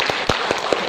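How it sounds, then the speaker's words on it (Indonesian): A crowd at a health insurance outreach session claps briefly, a quick burst of close, rhythmic hand claps lasting about a second. "tepuk tangan itu semua"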